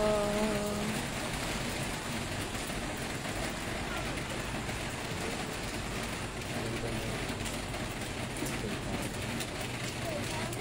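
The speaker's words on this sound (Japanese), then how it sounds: "すごい雨ですよ。" Heavy rain pours steadily over the hillside streets of Jiufen, Taiwan, on a foggy evening walk, a dense, close hiss filling the whole stretch while people talk over it.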